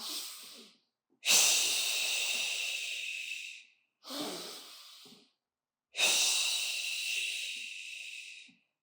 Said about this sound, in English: Just keep breathing in and out, in and out.